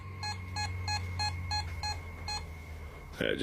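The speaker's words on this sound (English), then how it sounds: "Their meters beep throughout the room" Rapid series of about seven electronic beeps in an even rhythm over a low hum, followed by a short burst of noise.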